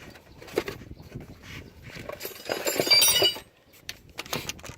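Set pliers work a brake pad retaining clip off the caliper of a Ford Streetka, giving a burst of light metallic clinks and scraping near the middle, close and moderately loud, with quieter fiddling before and after.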